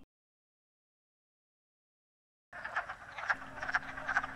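After a stretch of silence, frogs start croaking in a steady chorus of repeated calls at a vernal pool, moderately close and without any voices.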